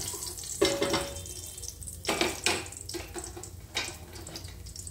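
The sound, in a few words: pav bhaji masala being mixed into frying cumin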